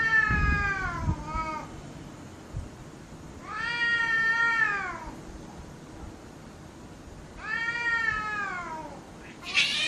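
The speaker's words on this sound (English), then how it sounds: "He's got some really funny, bizarre footage of some like stray cats fighting." Stray cats in Japan yowl and caterwaul in three long, drawn-out wailing calls spaced a few seconds apart, fairly close and clear over a low background hum.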